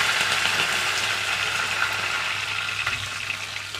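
Curry leaves, mustard seeds and crushed garlic sizzle steadily in hot oil, a dense, continuous close-up crackle with no voices.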